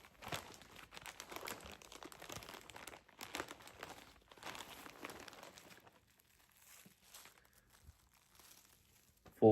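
Crinkling and rustling of plastic packaging as a two-piece tracksuit is unboxed, a steady close crackle for several seconds that fades to quiet, ending in a sharp loud thump.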